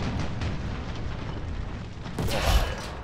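A tank cannon shot in War Thunder ground battles, a single heavy boom bursting out of a constant rumbling battlefield din, moderately loud and alone with no voices.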